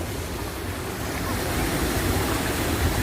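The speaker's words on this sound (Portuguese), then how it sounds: "Cachoeirona." A big waterfall roaring as a broad, steady rush of falling water, loud and continuous with slight wind buffeting on the microphone.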